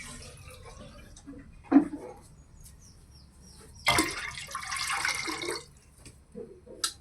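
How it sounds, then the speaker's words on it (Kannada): Rice being washed in water: intermittent sloshes and splashes, a short burst then a longer swirling rinse, with quiet gaps and faint background noise between. "ಅಕ್ಕಿ ತೊಳಿತಾವಣೆ ನಾನು."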